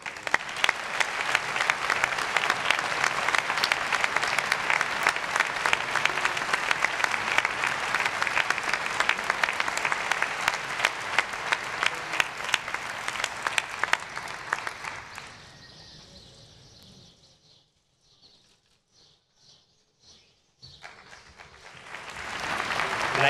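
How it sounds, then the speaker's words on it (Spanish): Sustained audience applause at the Día de La Rioja medal ceremony in Logroño, steady and moderately loud clapping for about fifteen seconds before fading out into near silence, with a few scattered claps and a brief swell at the end. "Un aplauso."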